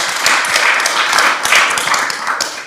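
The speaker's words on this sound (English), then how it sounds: "Give a round of applause." A panel audience at a policy discussion gives a round of applause, with many hands clapping in a dense, lively burst that stays fairly loud before easing slightly at the end.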